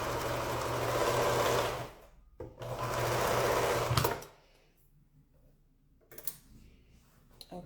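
A sewing machine stitching quilt pieces runs in two fast whirring bursts of about two seconds each, close and steady, followed by quiet handling clicks.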